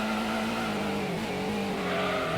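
A race car in Gran Turismo on the PS1 roars through a corner, its engine droning loud and steady with a rising whine and faint tire squeal throughout.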